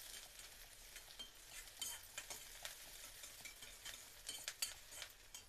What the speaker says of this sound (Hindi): और 3 से 4 हरी मिर्ची हैं, इन्हें अच्छे से फ्राई करेंगे।